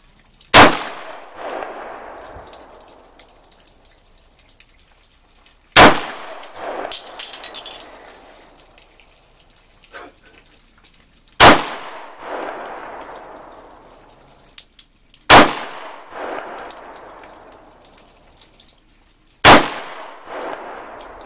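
Five sharp rifle shots fired one at a time at a shooting range target, each a loud close crack with a ringing tail, spaced about five seconds apart.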